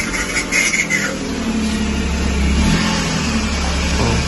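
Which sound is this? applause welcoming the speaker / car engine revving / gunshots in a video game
car engine revving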